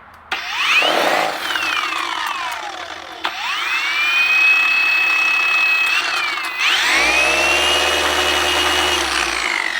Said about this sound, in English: So I just take a polisher,